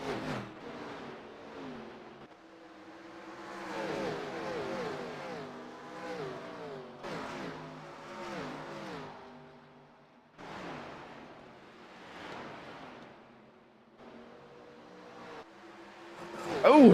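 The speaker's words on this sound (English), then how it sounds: "Cars are oddly very quiet, too. They're not that loud." Race cars circle Dover International Speedway in a sim racing game, their engines fairly quiet and rising and falling in pitch as they accelerate, with talk over much of it.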